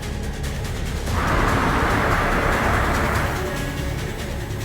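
A car drives along a road, its engine and tyre noise forming a steady broadband rumble that swells for a couple of seconds in the middle, with no voices over it.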